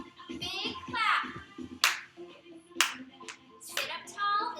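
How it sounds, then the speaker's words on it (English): A few sharp, separate hand claps sound during a seated chair Zumba workout class, interspersed with an instructor talking. "Big clap."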